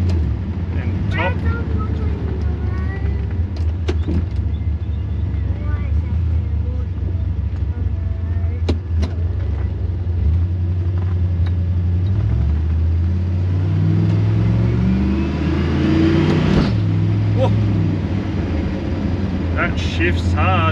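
A turbocharged LS-powered Holden Kingswood accelerating hard from inside the cabin, a loud continuous engine roar rising in pitch through the gears, with firm shifts and excited voices talking over it.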